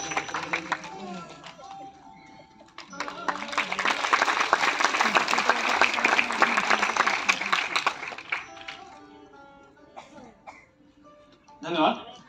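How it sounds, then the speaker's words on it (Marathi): Audience at an award ceremony breaking into sustained applause, a dense wash of clapping that swells for several seconds and then fades, with voices and a cough around it. "माहिती आहे आपण सतत टाळ्या वाजवतो आहोत तरी सुद्धा सतत टाळ्या व्हायला पाहिजेत."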